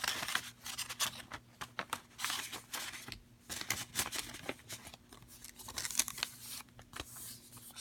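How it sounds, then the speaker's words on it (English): A paper letter is folded and slipped into an envelope for certified mail, heard up close as a run of crisp crinkles, rustles and sliding paper scrapes with brief pauses and no talking. "We fold it up. Place it in the envelope."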